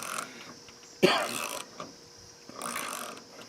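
A 90-tooth hand ratchet is cranked in short bursts of fine, fast clicking, three rounds separated by brief pauses, close and moderately loud.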